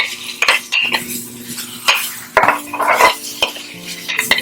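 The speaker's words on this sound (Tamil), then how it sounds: "ஜஸ்ட் நீங்கள் வந்து கொஞ்சம் மசாலா போட்டு லைட்டாக வந்து மிக்ஸ் பண்ணிக்கணும்" Masala stirred into non-veg chukka in a pan, with a metal spoon scraping and clinking against the pan in uneven strokes over a soft sizzle.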